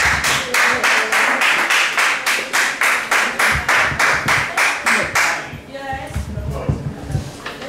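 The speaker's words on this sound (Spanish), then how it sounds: "Un aplauso para ella." An audience at a jam session and slam poetry night at O Alfaiate in A Coruña claps in strong rhythmic unison, then breaks into looser scattered clapping and shuffling with some voices.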